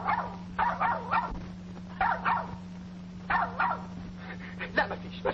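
A dog gives repeated high, wavering yelps and barks in short clustered bursts at moderate distance, over a steady electrical hum.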